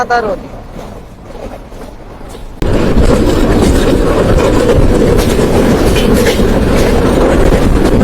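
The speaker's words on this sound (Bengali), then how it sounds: "প্রায় পঁচানব্বই বা একশো কিলোমিটার গতিতে ছুটে ছুটছে আমাদের ট্রেনটি" The Rupsha Express train roars along at about 95 to 100 km/h in Bangladesh, a steady loud rumble and rattle that swells suddenly after a few quieter seconds with a voice talking.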